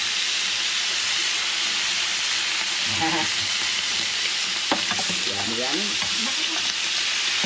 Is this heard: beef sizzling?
yes